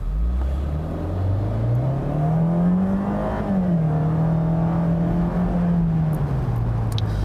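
A 2017 Fiat 124 Spider's 1.4-litre turbo engine with six-speed automatic pulls hard, its steady drone rising in pitch as it accelerates, dipping briefly, then climbing again and holding a strong, close whir throughout.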